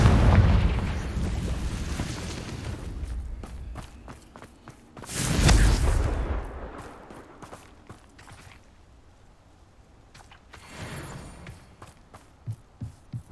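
A Confringo blasting spell in Hogwarts Legacy sets off a heavy explosion with a booming rumble, followed by a second softer blast. Footsteps and quiet game ambience fill the gaps.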